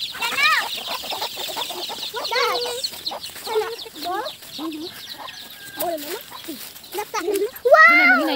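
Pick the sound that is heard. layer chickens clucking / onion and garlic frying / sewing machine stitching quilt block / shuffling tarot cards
layer chickens clucking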